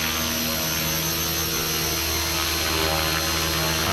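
An RC helicopter flies nearby with a steady, loud high-pitched rotor and motor whine that holds constant throughout without any talking.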